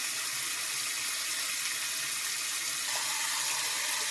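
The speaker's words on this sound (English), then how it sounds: "We're going to add water to our collards until it comes up to the top of our hand." Steady rushing water pours continuously into a pot packed with collard greens, a constant broadband hiss with no talking.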